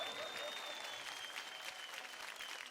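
Applause from a studio audience after a dance performance on a Marathi TV dance competition show, steady dense clapping that stays moderately faint and even throughout.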